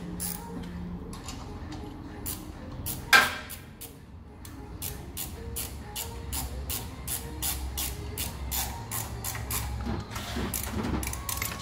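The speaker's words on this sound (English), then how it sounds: "Just to make things easy, go ratcheting wrench" A ratcheting wrench clicks steadily while tightening bolts on a cold water pressure washer build, a rapid run of sharp close pawl ticks over a low background hum, with one louder knock partway through.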